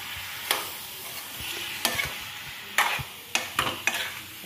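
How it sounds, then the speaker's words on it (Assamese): Jackfruit pieces frying in a pan for a vegan meat alternative, a steady sizzle broken by several sharp scraping stirs of the spatula, close and alone with no voices. "এতিয়া আমি কঁঠালখিনি এইদৰে ভাজি লওঁ।"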